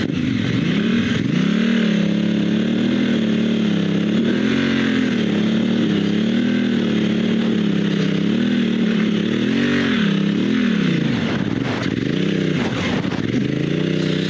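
Motorcycle fitted with Metzeler Karoo 3 street tires on a test ride, its engine droning loud and close throughout, with rising and falling revs and brief throttle changes.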